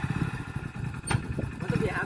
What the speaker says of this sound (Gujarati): બાઈક ચાલુ કર જલ્દી